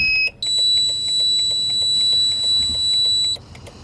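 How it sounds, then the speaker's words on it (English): Electronic beeps from an R33 Nissan Skyline's aftermarket electronics as they power up: a steady high-pitched alarm-like tone holds for about three seconds, broken by repeated short beeps, with a brief gap before it and a faint tail after. "So many beeps going off."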